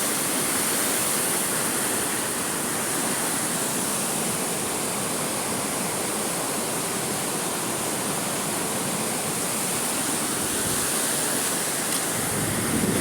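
Big river water in Karbi Anglong, Assam, rushes loudly and steadily, a dense close roar with no breaks and no voices over it.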